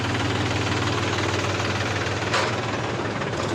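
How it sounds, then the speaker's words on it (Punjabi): A tractor engine runs steadily on a college road during a plant-watering service, giving a loud, continuous low rumble with a constant chugging drone and no break for the whole stretch. "ਟਰੈਕਟਰ ਚਲਾ ਰਿਹਾ"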